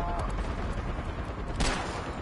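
Video game gunfire rattles in a dense, continuous volley of rapid shots, loud and close, with a sharper burst near the end.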